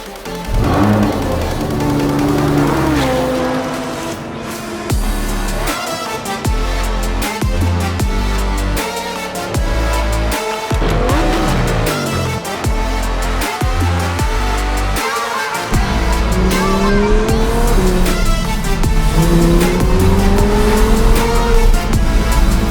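A 2017 Audi R8 V10 Plus with a center-exit exhaust gives a loud, sustained engine roar with rising and falling revs and gear shifts, a deep exhaust note prominent throughout while driving.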